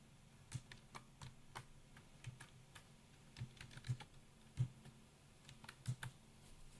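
Quiet typing on a computer keyboard, with irregular bursts of soft clicks and taps heard close and alone.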